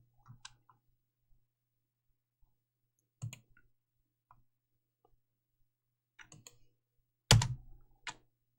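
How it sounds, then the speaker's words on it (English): Sparse computer mouse left-clicks during an embroidery digitizing input session, single and double clicks spaced irregularly with quiet gaps, close and crisp, with one louder burst near the end and no talking. "I'm left clicking for all of those straight points."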